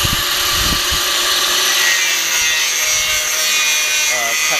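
Saw cutting through a section of a 1976 Land Rover Series III body, a steady loud rasping scrape that runs continuously and close throughout.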